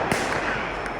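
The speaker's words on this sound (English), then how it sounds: "So they've had a buttload of fireworks going off tonight, like a city fireworks show for the 4th of July." Fireworks from a city Fourth of July show heard outdoors at night in Portland, a few distant sharp pops and bangs over steady crowd and street noise.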